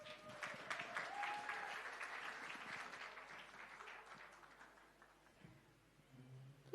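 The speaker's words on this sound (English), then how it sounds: "let's give another massive round of applause to our fantastic panelists" Applause from an audience at a panel event, moderately loud at first then gradually thinning and fading into scattered claps, with a sharp sound at the very end.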